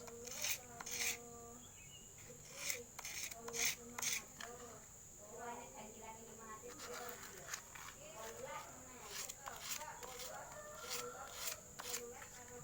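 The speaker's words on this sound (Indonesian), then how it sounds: "Kita gosok menggunakan amplas" Sandpaper rubs against a part of a portable sewing machine in short, repeated rasping strokes, faint and close, with a high steady whine in the background.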